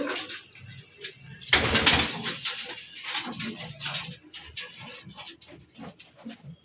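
Breeding pigeons in a pigeon room coo softly in irregular bursts, close by, with a brief louder rustle or flutter early on and scattered bird sounds throughout.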